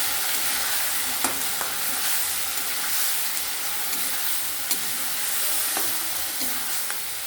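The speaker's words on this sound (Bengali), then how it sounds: "এবার আমাদের যে পেস্টটা ছিল সেটা আমরা এবার দিয়ে দেবো এর মধ্যে। ভালোভাবে নাড়িয়ে নেব।" Tomatoes and spice paste frying in a pan for crab curry, stirred with steady sizzling and occasional scraping clicks of a utensil, close and continuous with no voices.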